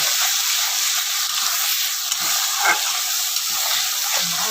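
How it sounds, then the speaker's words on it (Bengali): Ginger, onion and garlic paste frying with salt, turmeric and cumin powder for a duck egg curry gives a continuous close hiss, with a few soft scrapes as it is stirred. "নাড়াচাড়া করে দিয়ে দেবো নুন হলুদ জিরে গুঁড়ো দিলাম"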